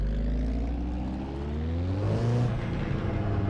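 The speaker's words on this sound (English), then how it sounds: "oh, nice burbles, blow-offs. So this is a turbo motor." A modified Toyota MR2 Turbo, about 260 brake horsepower, driven on a mountain touge track, its engine droning steadily and rising in pitch as it accelerates, close and loud with no talk.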